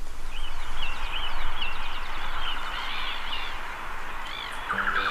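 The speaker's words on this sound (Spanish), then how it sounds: "está el sonido de un pájaro que se llama el chucao. Canta muy fuerte y se escucha de bien lejos" A chucao tapaculo calls in Chilean forest near Lago Ranco with a series of repeated chirping, whistled notes over steady background rustle and hiss, carrying from a distance.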